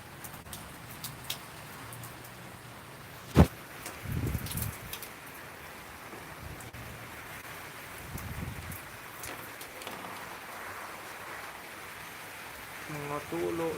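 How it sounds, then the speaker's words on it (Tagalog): Steady heavy rain pours down with a constant wash of noise, broken by a sharp knock and a few low thuds, while a voice talks faintly underneath, as Typhoon Paeng approaches in Bicol, Philippines. "lumalakas na ang ulan"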